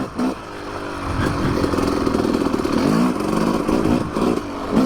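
A Yamaha YZ 250 two-stroke dirt bike revving on a fence-line trail, close and loud, with rising and falling throttle blips and a rattling, buzzy engine note over about five seconds, with no talk.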